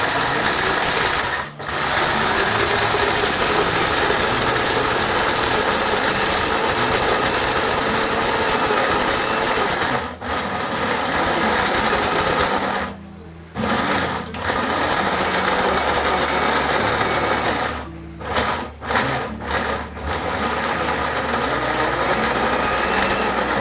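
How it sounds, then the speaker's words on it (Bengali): A Jaipan blender motor grinds chana dal into powder, its loud, close, high-pitched whine running steadily in long bursts with brief stops between pulses. "আমরা এখানে বুটের ডাল রাখছি, সেগুলো আমরা এখন আপনার ব্লেন্ড করে দেখাবো।"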